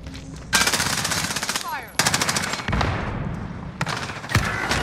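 Video game gunfire comes in loud, rapid automatic bursts, several long rattling volleys separated by short gaps, with players' voices now and then underneath.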